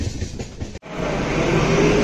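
Passenger train running on a long-distance journey, a loud steady rumble of wheels and carriage noise with a brief dropout, then continuing without talk.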